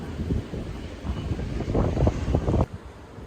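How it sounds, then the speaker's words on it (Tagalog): Gusty wind buffeting the microphone in a park in Taiwan, a rough low rumble that swells and drops, ending in a quieter stretch. "tapos mahangin"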